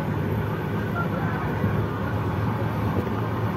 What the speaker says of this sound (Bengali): বাইরে তো ট্রেন ছুটছে